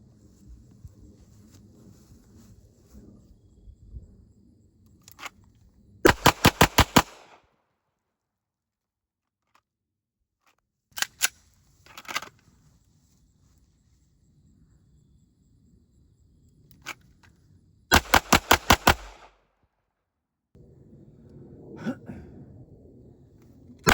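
Canik pistols, one stock and one with an upgraded trigger, fired as fast as possible: two sharp volleys of several rapid shots plus a few isolated cracks, separated by stretches of near-quiet.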